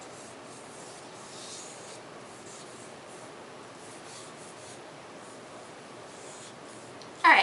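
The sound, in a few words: vine charcoal drawing shadows on paper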